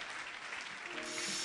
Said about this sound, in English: Clap hands for our sister.